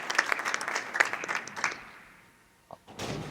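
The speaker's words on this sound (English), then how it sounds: "I think we offer another round of applause" Audience applause at a Franklin Township board of education meeting for presenters, a steady burst of clapping that thins out and fades, followed by a few scattered thuds near the end.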